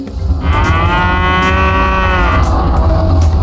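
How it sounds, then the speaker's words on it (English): A loud, sustained cow moo from a creature in the Path of Titans video game rings out close and full, holding its pitch for about three seconds. "I mooed so loud that it made the Rex deaf."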